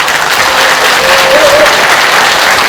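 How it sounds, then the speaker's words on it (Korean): A crowd at a national assembly forum on keeping the bar exam claps loudly and continuously to welcome a guest, a thick close wash of applause that fills the room throughout. "총장님을 여러분들 뜨거운 박수로 모시겠습니다."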